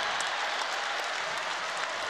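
Sustained applause and cheering from a basketball arena crowd at a Texas Tech men's college basketball game against Oklahoma State, a dense steady roar with no letup throughout.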